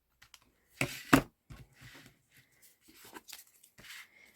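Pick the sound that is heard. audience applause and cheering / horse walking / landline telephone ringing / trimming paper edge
trimming paper edge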